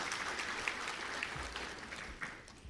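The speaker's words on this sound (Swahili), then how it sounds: "Naomba tumpongeze kwa makofi mengi sana" Quiet, continuous clapping from an audience at a government ceremony in Dodoma for receiving EU budget support funds, a soft sustained patter of many hands heard from a distance without speech.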